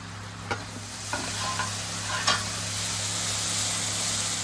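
Spice masala with Kashmiri chilli powder fries in a pan for a prawn and pointed gourd curry, a constant sizzle with occasional spoon scrapes over a low steady hum, nearby and without speech.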